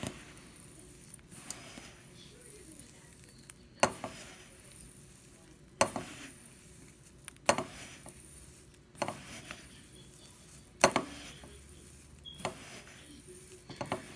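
Dry herbs for a spiritual bath are stirred and mixed in a bowl, giving soft rustling and scraping with a sharp clack every couple of seconds, fairly quiet and steady throughout.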